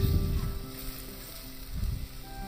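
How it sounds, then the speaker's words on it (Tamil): Ginger, garlic, fennel, cinnamon, cloves, cardamom and ground spice powder sautéing in a pan for mutton keema peas masala, a soft, quiet sizzle with low rumbling swells. "இஞ்சி, பூண்டு, சோம்பு, பட்டை, கிராம்பு, ஏலக்காய், இதை நல்லா நம்ம வதக்கி எடுத்துக்கலாம்"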